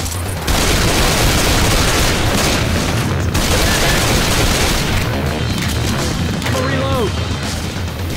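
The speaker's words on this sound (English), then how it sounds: "Y'all got to stop shooting me!" Heavy, continuous gunfire and booming blasts in the zombie video game Left 4 Dead 2, loud and dense throughout, with players shouting over the din.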